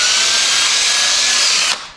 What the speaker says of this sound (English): I just use this on the drill